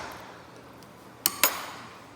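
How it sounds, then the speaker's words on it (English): Rear butt plate of a Tavor SAR rifle springing open, two quick sharp metallic clicks close together in otherwise quiet surroundings. "The rear butt plate will spring open"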